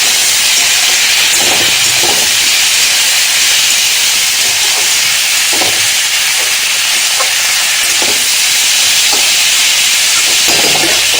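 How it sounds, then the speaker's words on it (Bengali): Three green chillies frying with turmeric and salt for a Bengali pumpkin dish, a loud, steady hiss of hot oil with soft periodic stirring thumps, no speech. "হলদি আর এই যে লবণ দিচ্ছি, আর দিয়ে দিচ্ছে এই যে 3টে কাঁচা লঙ্কা। এগুলো ভালো মতন ভেজে নিই।"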